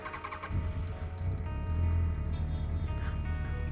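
A Yamaha FCR 1000 motorcycle engine runs steadily at idle after a clutch replacement, a continuous low rumble with even harmonic tones throughout.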